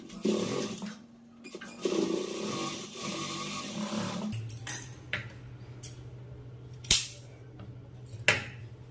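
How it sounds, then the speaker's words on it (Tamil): A sewing machine runs top-stitching along folded blouse cloth, a steady mechanical whir in the first few seconds, then quieter handling with a couple of sharp clicks and taps near the end; no talking. "கிளாத்தை திருப்பிட்டு மேலே டாப் ஸ்டிச் போட்டுக்குங்க"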